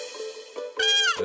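A cartoon cat from Honey Bunny Ka Jholmaal gives a short, bright, wavering meow, close and fairly loud, ending in a brief higher squeak after a softer lead-in.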